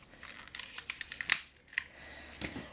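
Scissors snip through cord lacing on a shamanic frame drum, giving a few sharp, close, dry clicks and cuts spread over a couple of seconds in an otherwise quiet room.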